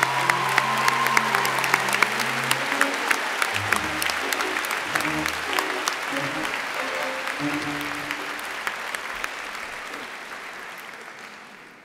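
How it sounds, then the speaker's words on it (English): A large audience at a university medical faculty graduation ceremony claps steadily for the graduates, a dense sustained roar with sharp individual claps that slowly fades at the end. "Please join me in a round of applause for the graduates"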